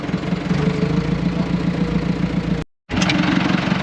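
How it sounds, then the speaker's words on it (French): An old farm tractor engine runs steadily with a low, throbbing idle, continuous and fairly close, broken by a brief cut of silence near the end before it resumes. "c'est un vieux tracteur hein, qui dépanne bien"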